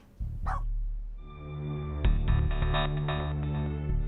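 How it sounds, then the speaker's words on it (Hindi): Pet dog named Gulki barking indoors, a few sharp barks near the start followed by sustained whimpering yelps over a droning musical background. "तू भौंक क्यों रही है?"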